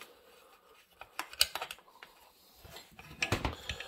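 Metal bolts being tightened into the case of a Farmertec 288 kit chainsaw's bottom end, heard as close, irregular clicks and ratcheting taps in two brief bursts separated by quieter handling noise.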